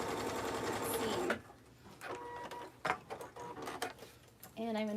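Sewing machine topstitching a quarter inch from a fold seam on a fanny pack, a steady mechanical whir that runs close and loud, then stops as short stretches of talk follow.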